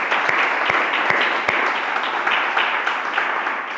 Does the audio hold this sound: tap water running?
no